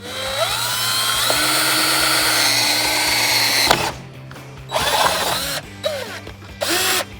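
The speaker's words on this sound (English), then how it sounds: "So, get my drill here, where I mark my spot." A power drill whirs loudly for several seconds drilling a hole in a 2011-2023 Ford F-150 to fit an oil separator, its pitch shifting as it bites, then stops and gives a few short bursts; close, no talking.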